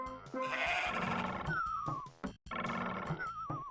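Goat bleats from the Doom WAD Super 3D Noah's Ark, two loud wavering cries in succession, each with a rising then falling warble, heard alone over game sound.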